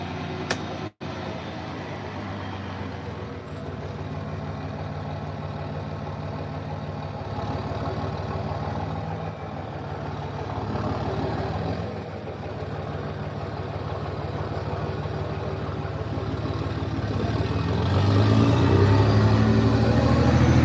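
A diesel truck engine idles nearby with a steady low rumble and faint mechanical whir, briefly interrupted by a sharp click near the start and growing slightly louder toward the end.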